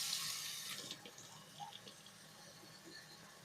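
Kitchen tap water runs steadily as food is rinsed under it, a soft continuous splash that fades slightly and stays faint throughout.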